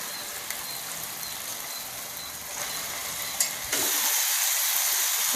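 Chicken pieces go into an onion-tomato masala sizzling in oil, a steady hiss of frying with a clatter as the pieces drop in, then a louder, brighter sizzle rising and holding.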